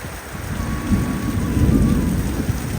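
Heavy rain pours in a steady close hiss while a low thunder rumble swells and rolls beneath it, building loudest toward the middle of the clip.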